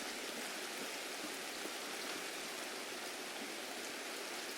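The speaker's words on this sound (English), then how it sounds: "This rain sucks." Steady rain pours down in a Escape from Tarkov game map, a dense, even hiss of falling water that holds without break from start to end, fairly loud and close with no voices over it.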